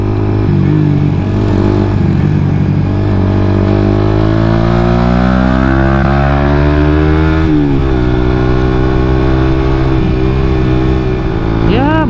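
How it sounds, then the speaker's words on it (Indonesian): Suzuki GSX motorcycle with an aftermarket exhaust, its engine droning steadily with rising and falling revs throughout, loud and close, with no talk over it. "karena keganggu sama suara knalpot gua sendiri"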